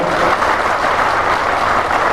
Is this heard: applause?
yes